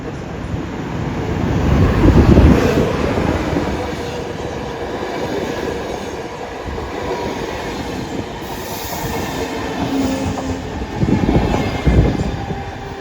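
A RegioJet passenger train at Gdańsk Wrzeszcz station rumbles steadily on the rails for the whole stretch, swelling at the start and again near the end, with faint wheel squeal and no voices.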